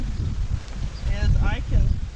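Strong wind gusts through a vegetable garden and buffets the microphone, a steady low rumble that swells toward the end, with a few faint higher chirps above it.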